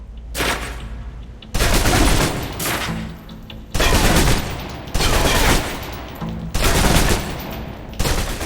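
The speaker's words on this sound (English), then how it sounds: "Now, let's move on to the submachine gun. Now let's empty the clip." A submachine gun in the video game Alpha Protocol empties its clip in several loud bursts of rapid automatic fire, each burst separated by short pauses.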